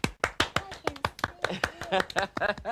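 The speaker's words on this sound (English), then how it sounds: "Let's give Hayley a clap." Children clap for a girl named Hayley who has just won an orange as a prize, a quick run of sharp, fairly close hand claps over roughly three seconds, alone without talk.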